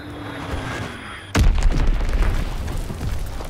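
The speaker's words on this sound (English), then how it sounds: "Enemy bomb incoming." A loud bomb blast in a Call of Duty: WWI battle hits suddenly after a quieter stretch, then rumbles and crackles with debris for a couple of seconds.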